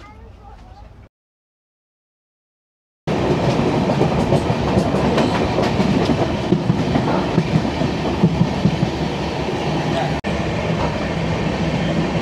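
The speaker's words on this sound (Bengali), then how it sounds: "কাঁটায় ঠিক 11:55 নাগাদ ট্রেনটি ডিপার্ট করলো হাওড়া থেকে" A train departing Howrah station, its steady loud rumble and clickety-clack of carriages on rails carrying on after a short silence, with voices faintly in the background.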